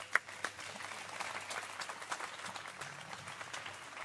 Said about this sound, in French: c'est nous qui vous applaudissons